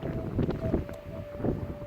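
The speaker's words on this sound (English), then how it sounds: "it's a very windy day today" Strong wind on a mountain buffeting the microphone, a loud continuous rumble with gusty surges and a faint steady tone running through it.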